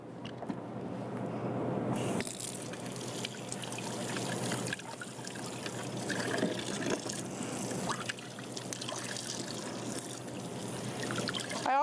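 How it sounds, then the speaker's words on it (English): Cold tap water runs over fruit being washed in a home kitchen, a steady splashing trickle that starts abruptly after about two seconds and continues with small shifts in flow, fairly quiet and with no talking. "So make sure that you wash all your fruit. Cold water is best."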